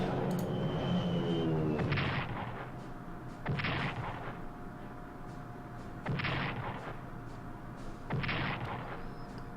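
Bombing raid in the wartime strategy game Strategic Command: World at War, with about four heavy, booming artillery-like blasts at a steady pace over a continuous rumbling game backdrop.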